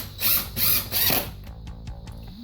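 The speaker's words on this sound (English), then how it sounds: "So right now you're screwing the blind holder clip to the stud" A power drill screws a window blind bracket clip into a stud, with three loud whirring bursts up close followed by quieter ratcheting clicks.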